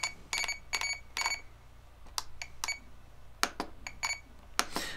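A series of short electronic beeps from a Radiomaster Zorro radio transmitter, some in quick pairs or triplets, sound at irregular intervals over a low background hum.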